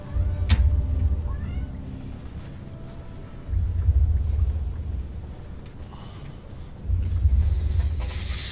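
A cat meows in a Mass Effect game scene, a brief high call early on, heard over a low rumbling ambient drone that swells and fades in three long waves.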